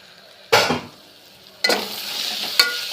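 Onions sizzling in a pan and being stirred, with two loud scraping stirs separated by a pause, then a continuous close hiss of frying and a small clink near the end.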